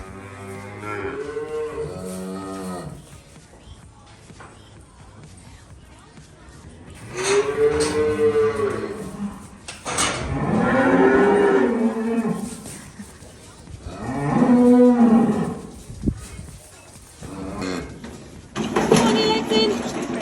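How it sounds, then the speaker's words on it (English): Calves mooing loudly and close by on a farm, several long drawn-out bellows spaced a few seconds apart with rustling and movement in between. "We're just going to move his calves over there."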